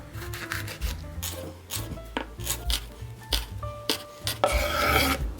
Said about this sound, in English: Chop a quarter of an onion. We're gonna take some chili pepper.